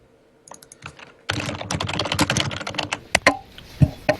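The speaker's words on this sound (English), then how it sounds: "your keyboard is still the loudest keyboard I've ever heard." Very loud computer keyboard typing, rapid dense clattering keystrokes close to the microphone after a quiet start, continuing with a few sharper isolated clacks toward the end.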